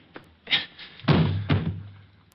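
Blows with a sap in a radio drama, a series of dull thuds and thumps in quick succession, close and fairly loud with no talk.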